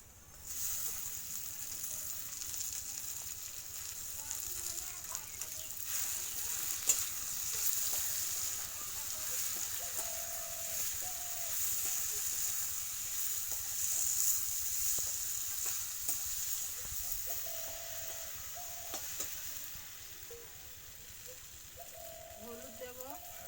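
Sliced ridge gourd frying in a pan with onions that have already been fried, a steady low sizzle running throughout with occasional stirring clatter and faint background noise.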